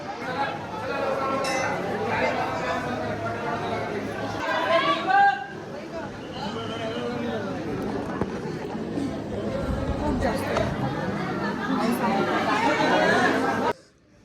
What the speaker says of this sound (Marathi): बघा गर्दी गर्दी बघा नुसती गर्दी गर्दी गर्दी खूपच जास्त